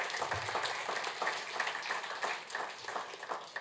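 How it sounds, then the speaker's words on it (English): A crowd applauds, many hands clapping in a steady, fairly faint patter that continues throughout. "I just want a final round of applause for all the 8 pitches and the finalists today."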